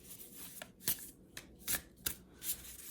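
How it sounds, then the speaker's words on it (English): Oracle cards are shuffled close up in quick riffling bursts, about five crisp flurries separated by short pauses, with no talk. "So the shuffling is also nice."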